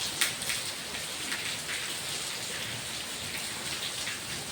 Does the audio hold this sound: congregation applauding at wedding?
no